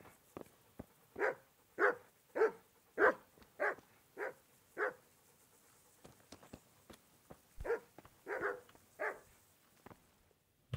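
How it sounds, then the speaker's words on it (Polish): A dog in the medieval village of Rataje in Kingdom Come: Deliverance barks repeatedly, about a dozen sharp, fairly close barks in two rhythmic bursts with a short pause between them. "Tutaj następny pies."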